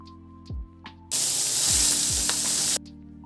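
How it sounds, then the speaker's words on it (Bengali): Prawns fry in a kadai with a loud, steady sizzle that starts abruptly and holds for about two seconds before cutting off, with a few faint clinks and low tones before and after. "এই কড়াই চিংড়ি মাছগুলো ভেজে নিচ্ছি"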